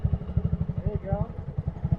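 A 2022 Honda Grom motorcycle engine chugs close by in rapid, even pulses as it is goosed, with a brief voice rising over it midway.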